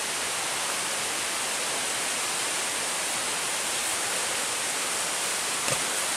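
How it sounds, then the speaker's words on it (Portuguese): The Cachoeira das Lágrimas waterfall on Mount Roraima roars as a constant, dense wash of broadband rushing water that fills the whole stretch evenly, with no voices. "E agora, finalmente vamos passar a famosa Cachoeira das Lágrimas."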